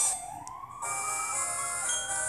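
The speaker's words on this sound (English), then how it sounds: "Be quiet, Ambulance." An ambulance siren wails outdoors, its tone sweeping up and then holding a steady, piercing pitch as it passes, moderately loud with no talk over it.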